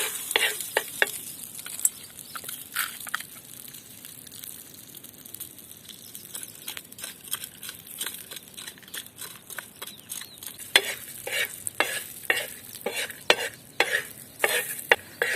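Soaked corn kernels are stirred in hot oil for popcorn, giving repeated scraping stir strokes over a low sizzle. The strokes come in irregular bursts that grow busier toward the end.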